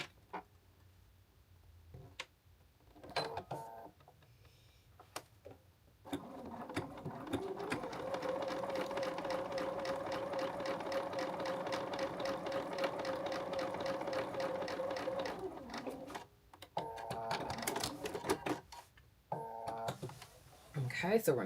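A sewing machine bastes the center line of an oversized blazer, running in a steady mechanical whir with ticking for several seconds, framed by shorter bursts and quieter stretches where a person talks.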